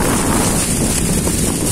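Strong wind at the seashore at Muara Baru on a day of high waves, a loud, constant broadband roar of gusts buffeting the microphone with surf washing underneath and no speech.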